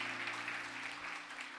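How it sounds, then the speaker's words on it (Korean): Congregation in a church clapping in thanks after a marimba performance, a steady dense wash of applause with a low hum underneath throughout. "우리 자매님에게도 감사의 박수를 드리겠습니다"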